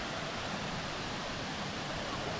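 Masila Falls in the Kolli Hills, a medium-height waterfall in full flow, gives off a steady, dense roar of falling water throughout, loud and close.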